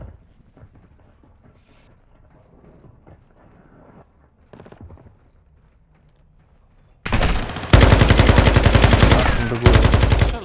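Loud, rapid bursts of automatic gunfire erupt suddenly after a stretch of quiet game ambience and low talk, continuing as dense rattling volleys in a shooter video game.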